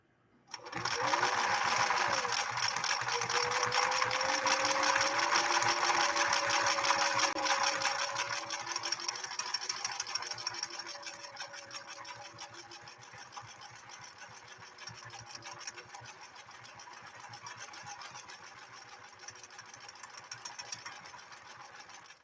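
A 1968 Singer Model 626 sewing machine runs in a continuous fast whirring, mechanical stitching rhythm, loud and close, easing off somewhat after several seconds and continuing at a lower level.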